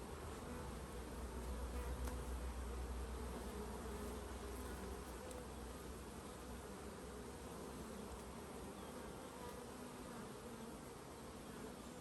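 A dense, continuous hum of many honeybees buzzing close by, steady and even throughout with no voices.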